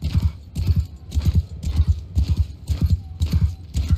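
Horse hooves gallop in a steady, rapid rhythm during a ride in the Mount & Blade 2 Bannerlord video game, loud and close, with a faint neigh.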